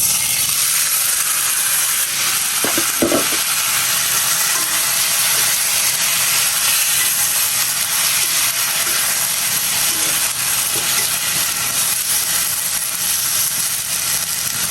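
Saag greens sizzle in a pan with onions, giving a continuous, even frying hiss for the whole stretch, with a few faint utensil clicks near the start.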